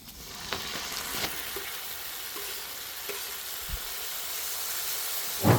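Six chopped tomatoes hitting a hot pan for egg tikka masala, giving a steady, soft sizzle with a few sharp crackles and a louder burst at the end.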